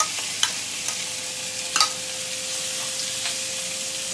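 Bacon frying in a smoking-hot wok gives a steady, close sizzle with a few brief clicks and pops.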